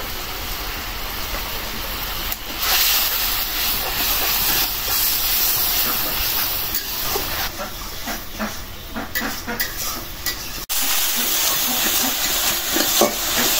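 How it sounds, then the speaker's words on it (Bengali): Spice paste with cumin powder frying in oil until the oil separates, for a river fish curry with kajoli fish: a steady, close, loud hiss and sizzle, with occasional stirring scrapes and no talking. "মশলাটা কষানো হয়ে গেছে, একদম তেল উঠে গেছে।"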